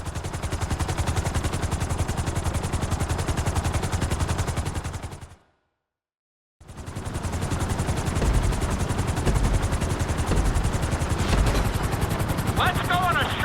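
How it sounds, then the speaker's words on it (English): Helicopter in the video game Grand Theft Auto V, a steady loud rotor thump with dense engine whine that cuts out briefly and then resumes, continuous and close. "we're gonna put you in a helicopter for this lesson"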